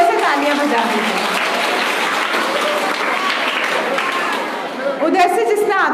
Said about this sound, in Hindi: एक बार हरजोत के भी जोर से तालियां बजा दीजिए।